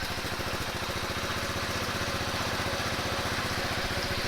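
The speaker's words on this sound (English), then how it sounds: "start the engine." A KTM SMC R 690 single-cylinder motorcycle engine runs at a steady idle, a fast, even throbbing pulse held close and constant throughout, with no voices.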